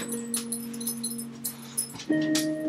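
A dog whimpers indoors in long, steady, high whining tones, rising to a louder whine near the end, close and alone.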